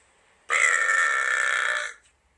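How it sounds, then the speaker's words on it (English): One long, loud burp, steady and sustained for about a second and a half, rising abruptly out of near silence and then stopping cleanly. "Make another burp, please."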